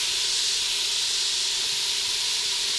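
Vegetables with spices sizzle while frying in a pan, a loud, steady hiss that continues without a break and stands alone with no speech.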